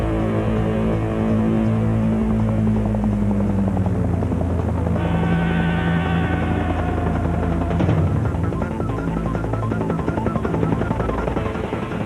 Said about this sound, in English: Flying a news helicopter like this takes total concentration.